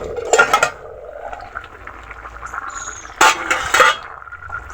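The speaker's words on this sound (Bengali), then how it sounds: "২০ মিনিট পর ঢাকনা খোলা হচ্ছে" A metal lid lifted off a cooking pot of snakehead fish curry with bottle gourd after twenty minutes of simmering, two clattering clinks of lid and pot rim in a quiet kitchen, close by.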